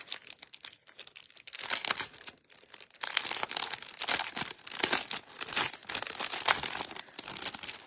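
Sheets of glittery specialty cardstock handled up close, giving steady crinkling and rustling with a few crisp crackles and short quiet pauses between bursts of movement, no talking.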